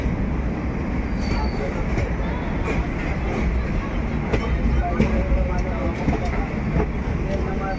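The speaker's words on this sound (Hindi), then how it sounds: "ये भी ट्रेन चल पड़ी है दोस्तों हमारे साथ साथ" A passenger train from Bathinda bound for Kanpur Anwarganj moves off on the adjacent track, a loud, steady rumble of wheels and carriages with faint clicks, under crowd babble and nearby voices.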